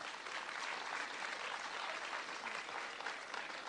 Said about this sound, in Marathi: मनापासून टाळ्या व्हायला हव्यात.